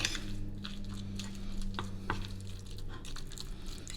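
Guacamole gently mixed in a bowl, with soft, wet squishing and light scraping strokes of a utensil in an irregular rhythm over a steady low background hum, close and quiet.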